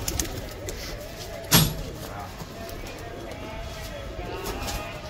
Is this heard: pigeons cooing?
yes